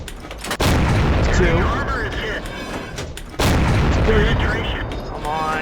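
Tank gun shots from a T49 in a video game: two loud booming blasts a few seconds apart, each followed by a sustained rumbling roar with ringing game effects, and someone talking over them.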